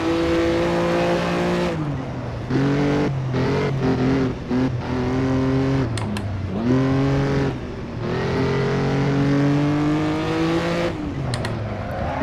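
Supercharged 1957 Ferrari race car in Assetto Corsa at the Nürburgring, its engine loud and close throughout, rising and dropping through repeated gear changes with short lifts between bursts of acceleration, some faint tire squeal.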